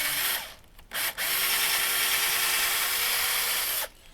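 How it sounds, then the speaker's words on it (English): A power drill bores a hole while a trail camera is mounted on a property, a steady loud whine with a brief stop and restart near the start, then one continuous run that cuts off just before the end. "We can drill the hole."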